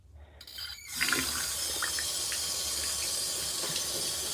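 LG ThinQ washing machine filling with water for a cold rinse, a steady rushing hiss of inflow starting abruptly after a brief quiet moment and continuing evenly, close and fairly loud.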